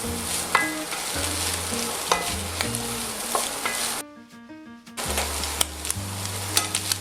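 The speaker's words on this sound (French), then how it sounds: "Ensuite, je mets les champignons. L'idée, c'est de griller légèrement la viande." Mushrooms and meat frying together in a pan while stuffed potatoes with andouillette are prepared, giving a steady close sizzle with stirring scrapes and a brief quieter gap midway.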